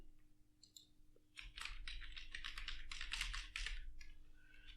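Rapid computer keyboard typing while a file is being written, a dense flurry of soft clicks starting after a quiet first second and continuing steadily over a low background hum.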